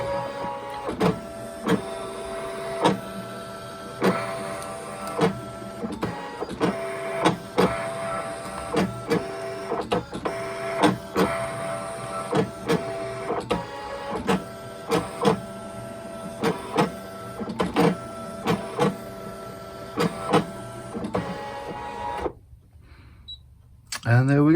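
A Scan n Cut machine cuts designer series paper with the blade depth set to about 4.5. Its motor whirs and buzzes in repeated bursts as the carriage moves back and forth, then stops briefly near the end.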